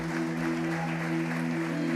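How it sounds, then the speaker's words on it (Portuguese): A church congregation claps together during a service led by children, a steady wash of applause held over sustained low organ-like tones throughout. "Você pode aplaudir ao Senhor mais uma vez essa manhã"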